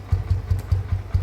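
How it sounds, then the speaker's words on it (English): A motorcycle engine idles lumpily just after a cold start, six deep regular thumps in barely over a second, close and fairly loud with no talking. "Started the bike, cold start"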